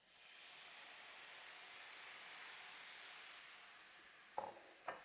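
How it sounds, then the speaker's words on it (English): Lemon juice poured into a pan of garlic that has been frying in oil for two minutes, giving a steady soft hiss and sizzle that fades, followed by two brief clinks near the end, with no talking. "Now we'll stop the frying process by adding the lemon juice."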